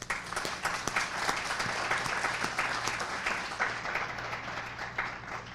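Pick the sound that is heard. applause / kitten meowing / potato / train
applause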